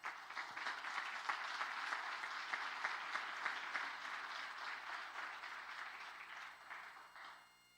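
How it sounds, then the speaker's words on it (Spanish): A church congregation applauds continuously during a sermon, many hands clapping together at a moderate, even level that fades slightly toward the end. "Den un aplauso al Señor"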